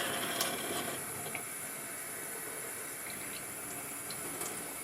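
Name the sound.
water running while washing hair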